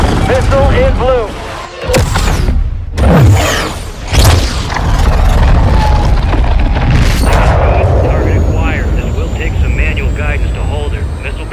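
Missile strike in Modern Warfare 2 gameplay: loud booming blasts and roaring jet aircraft noise fill a dense, continuous battle soundscape, with radio-style voices talking throughout.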